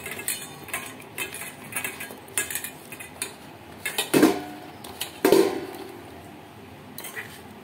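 Boiled potatoes are mixed by hand or spoon with salt and turmeric in a bowl, giving soft irregular squelching and scraping with a couple of louder knocks against the bowl.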